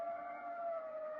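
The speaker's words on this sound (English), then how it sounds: "We were about a block away from her apartment when we heard the ambulance." An ambulance siren from an old-time radio drama holds a steady, fairly faint wail that drifts slightly in pitch, as if heard from down the block.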